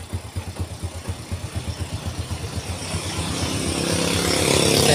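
Motorcycle engine running in neutral after roughness in gear, a close, even putt-putt idle pulse that then swells into a louder, steadier running drone.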